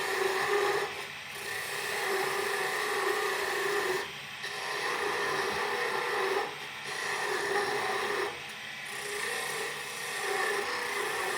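Wood turning on a lathe while shaping a snowman Christmas ornament, a continuous rasping cut that comes in long passes separated by short pauses, close and fairly loud, without speech.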